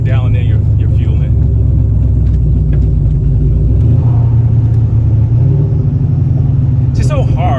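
Turbocharged SN95 Ford Mustang engine droning loud and steady close by, rising in revs near the end, with someone talking over it.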